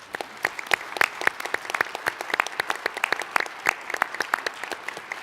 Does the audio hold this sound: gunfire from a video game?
no